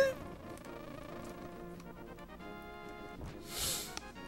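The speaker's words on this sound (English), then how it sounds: "Uh, not the bees!" Buzzing insect noise from angry bees in a randomized Zelda video game, a sustained drone under game music, swelling briefly louder near the end.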